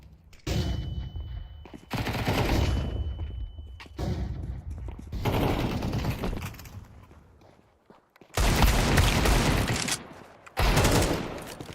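Rapid bursts of automatic gunfire in Counter-Strike 2, loud and close, arriving in dense volleys separated by brief pauses, with a long sustained burst near the end.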